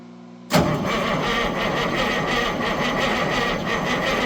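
A Peterbilt 359 truck's swapped engine is cranked by its starter with two battery chargers hooked up, a loud abrupt start into a steady, sustained churning drone that runs on without stopping.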